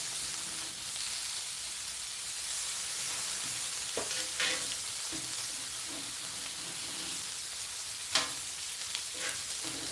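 Applewood-smoked bacon sizzles and crackles steadily in a frying pan, with a few sharper pops and clicks of a utensil stirring or turning it.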